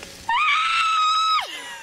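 A voice imitates a horse scream: one loud, shrill, sustained cry held for about a second before dropping off sharply.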